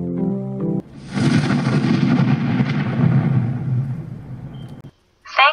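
Film bomb explosion: a long, loud, rumbling blast that roars for about four seconds and then cuts off abruptly, with a faint tone before it and a short burst of sound afterwards.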